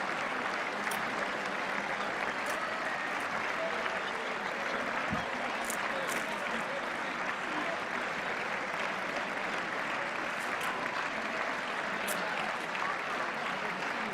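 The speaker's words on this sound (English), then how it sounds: "it's gonna be 6 minutes of clapping before the speech starts." A large audience claps continuously in a broad, dense roar of applause during a presidential address to Congress, steady and unbroken for the whole stretch.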